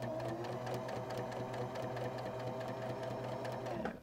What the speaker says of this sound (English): Do a row of stitching.